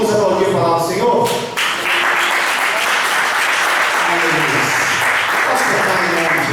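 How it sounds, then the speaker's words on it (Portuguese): A church congregation applauds during a Portuguese-language worship service, bursts of clapping that start loud and rise into sustained applause, with faint tonal sounds and a voice showing at the start. "Vamos aplaudir a palavra do Senhor?"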